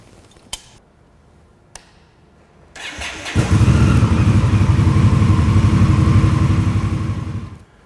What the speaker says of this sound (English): we've got a well-ventilated area since we'll be starting the bike